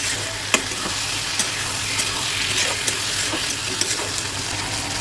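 Brinjal and fish frying with spice paste and chopped tomato while being stirred in a pan, a loud, constant sizzling hiss broken by occasional sharp clicks of the spoon, with no voices.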